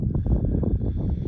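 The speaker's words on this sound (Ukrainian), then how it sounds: "Вітряно," Wind blows outdoors in a January orchard in Poltava region, rumbling hard against the microphone in low, gusty buffets throughout, with no voices.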